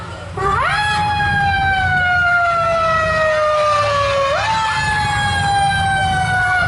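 A two-tone siren sounding steadily at close range, holding one pitch and then the other, like an ambulance passing nearby over low traffic rumble.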